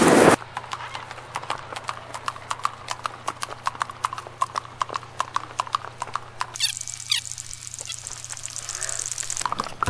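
Hooves of a horse ridden on a trail ride through town on a cold day clip-clop in a steady, even rhythm, close and clear over constant low background hum, with a brief burst of wind or handling noise at the end.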